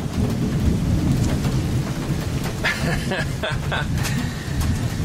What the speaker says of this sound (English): Yeah, there's the thunder, but it's kind of distant.